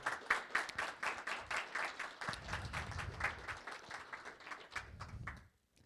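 An audience gives a round of applause at a gathering, a dense crowd of hand claps continuing steadily for several seconds before fading out at the end.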